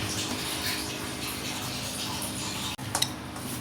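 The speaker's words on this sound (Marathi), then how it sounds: "थोडं थोडं पाणी टाकत घट्टसर असं आपल्याला हे पीठ भिजवून घ्यायचं आहे।" Water trickles a little at a time into flour while kneading a stiff dough for aloo methi paratha, a soft steady splashing close by with a brief knock near the end.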